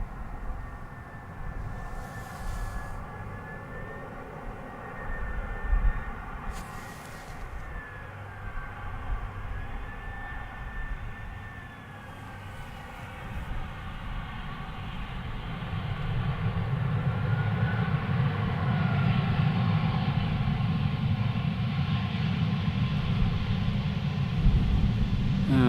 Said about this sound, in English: So this is the smallest Airbus of the 320 range